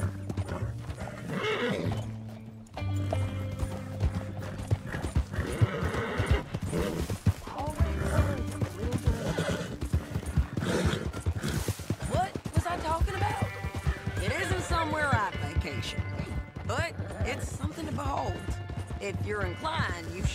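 Horse hooves clip-clop steadily in Red Dead Redemption 2, broken by loud whinnies and neighs, with character voices talking over the game sound and scattered knocks and thuds.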